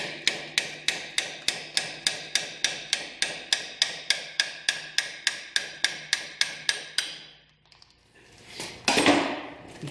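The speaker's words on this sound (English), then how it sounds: "we'll take a longer brass punch. Just catch them under the back." A hammer strikes a brass punch against a Toyota steering knuckle part in a quick, even run of about twenty metallic blows, close and ringing, then stops, followed by a brief scrape.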